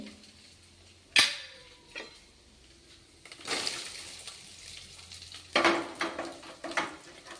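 Onions and chana dal frying in a pan, with a soft continuous sizzle broken by louder clatters and scrapes of stirring and utensils against the pan.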